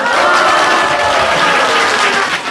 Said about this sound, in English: Let's give the Archangel a round of applause.